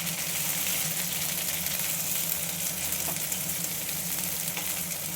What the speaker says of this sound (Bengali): ভালো করে নেড়ে এটা কষিয়ে এটা করতে হবে।